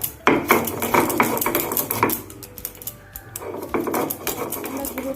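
Roasted cardamom and cloves being ground to powder: a dense, rapid rattle and clatter, loud and close, easing briefly midway before resuming, with no one speaking.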